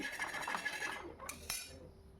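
A spoon scrapes burnt residue from a blackened iron tawa during cleaning, giving a short close metallic scraping rasp followed by two sharp clinks.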